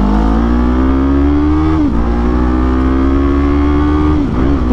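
A 2024 Kawasaki Eliminator motorcycle fitted with an Akrapovic exhaust accelerates hard, its loud, close engine note climbing steadily through the gears, with brief dips at each shift before rising again.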